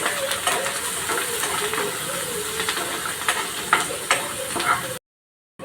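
Finely chopped onion, curry leaves and crushed garlic frying in a pan, a steady close hissing sizzle with scattered crackles and pops, ending abruptly.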